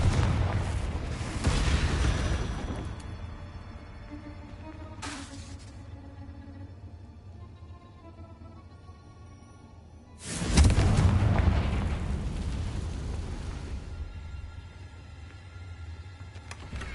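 Confringo fire spell exploding in the Hogwarts Legacy video game, a loud booming blast that rumbles and fades over a couple of seconds, followed after a quiet stretch by a second heavy explosion with a long decaying roar.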